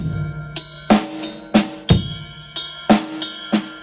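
A slow black metal drum beat in triplets, with hard snare accents on beats two and four over kick and cymbal, played alone at a steady, measured pace.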